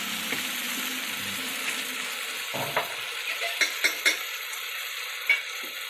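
Cumin dropped into hot oil in a pan for Egyptian bessara, a steady crackling sizzle with a few sharp clinks of a utensil stirring against the pan near the end.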